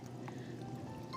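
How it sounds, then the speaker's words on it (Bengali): Water pours from a container onto dry soil in a potted plant, a short, close, steady trickling stream at low volume with faint background noise. "এই যে এখন গাছে একটু জল দিয়ে নিই।"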